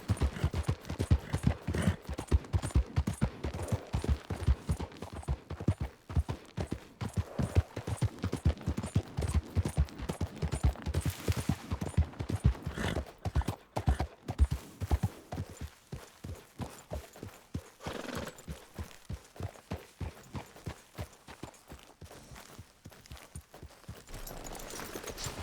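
Horse hooves galloping in Red Dead Redemption II, rapid loud rhythmic beats that hold fast for a stretch, then slow and fade toward the end.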